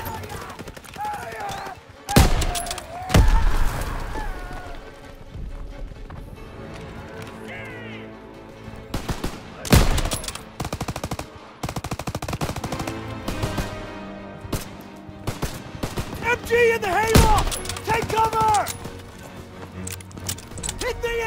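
Automatic MG fire and explosions ring out in a World War II Normandy battle in Call of Duty WW2, with sharp loud bursts and rattling volleys under shouted voices and battlefield noise.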